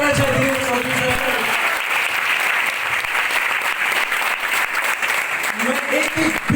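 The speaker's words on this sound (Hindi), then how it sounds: "जोरदार ताली होना चाहिए दिनेश चौधरी सर" Audience at an RTP program in Saoner applauding for Dinesh Chaudhari, a loud, dense burst of clapping from a crowd that carries on steadily, with voices faintly mixed in at the edges.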